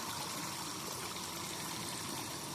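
A small stream runs down over little rocks, a steady close rushing trickle that fills the whole clip without a break.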